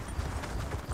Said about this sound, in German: Kann ich jetzt endlich wieder reiten?